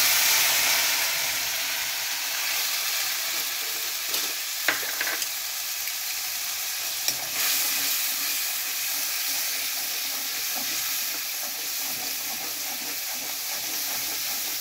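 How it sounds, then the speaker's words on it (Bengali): Poppy seeds fry in hot oil with a continuous bright hiss that slowly settles. A few brief clinks and scrapes come from stirring, and no one speaks. "এবার আমি এই পোস্তটাকে গরম তেলের মধ্যে দিয়ে দিই।"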